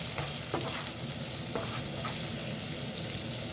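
Sliced onion sautés in a pan with a steady, close sizzle, punctuated by a few soft stirring scrapes, with no talking.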